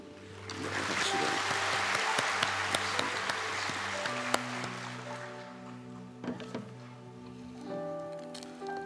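A church congregation claps in welcome during a Sunday service as a member comes forward to give testimony, a broad steady patter of many hands with some sustained organ or keyboard tones sounding underneath.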